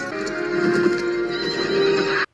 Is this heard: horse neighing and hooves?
yes